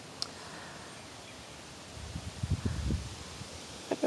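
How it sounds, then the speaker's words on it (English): Soft, steady wind noise on an outdoor deck on a June afternoon, with a gust of rustling and low buffeting in the middle, fairly quiet and with no voices. "out on the deck on this beautiful but a little windy afternoon"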